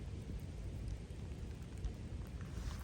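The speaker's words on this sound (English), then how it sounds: "It's raining." Rain falls steadily on a clover lawn, producing a dense, continuous hiss with a broad low rumble underneath, even and close throughout with no voices.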